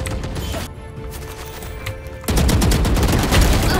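Gunfire in the video game Valorant, including a shotgun, sounds as close, loud bursts of repeated shots, first rapid cracks and then a dense, heavy volley in the second half.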